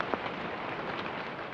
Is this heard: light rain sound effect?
yes